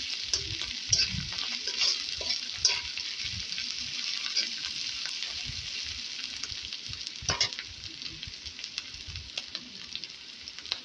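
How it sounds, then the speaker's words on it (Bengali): Onion paste sizzles steadily in a hot pan while a spatula stirs it, producing repeated scraping strokes over a dense, continuous frying hiss, loud and close. "এবার একটু নেড়ে চেড়ে নিচ্ছি।"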